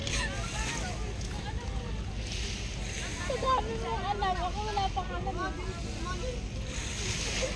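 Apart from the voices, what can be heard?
seaside waves and wind by boats, Bauan boulevard, Batangas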